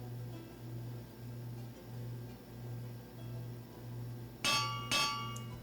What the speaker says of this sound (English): And now we grab an anvil.